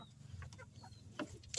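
Native chickens and newly hatched chicks cluck and peep softly, with a few faint, brief calls over low background noise and a louder rustle at the end.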